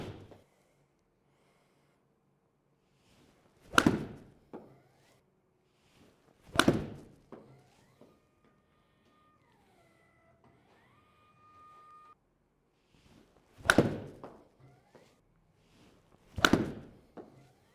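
Golf shots struck with Bettinardi CB24 and MB24 irons ring out as four sharp, loud impacts spaced several seconds apart. Each strike is followed by a brief tail, with quiet between them and faint incidental noise.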